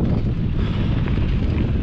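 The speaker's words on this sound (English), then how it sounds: "the wind just kicked up" Strong wind buffets the microphone in a steady, roaring rumble throughout, heard outdoors while biking through the Laos countryside.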